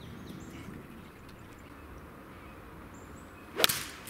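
A golf club whooshes through a swing and strikes a ball with one sharp, crisp crack near the end, after quiet outdoor ambience.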